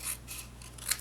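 Scissors trim a piece of material in about three quick, close snips, quiet and alone with no talk.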